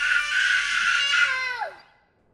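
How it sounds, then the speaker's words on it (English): A scream sound effect in a horror story reading: a single loud, shrill scream held for over a second, then trailing off into silence, heard alone without talk. "but then one scream had cut through the heat."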